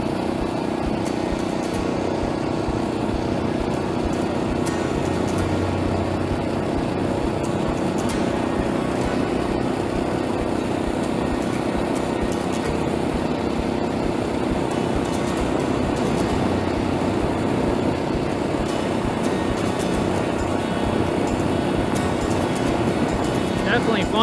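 A Honda GX 120cc engine drives a motorized bike along a mountain road, a continuous loud buzzing drone mixed with wind rush, steady for the whole stretch.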